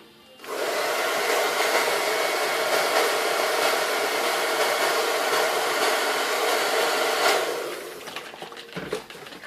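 A handheld heat tool blows steadily over wet paint in a mixed media piece, a loud, close, continuous whooshing roar that switches on after a moment and winds down near the end.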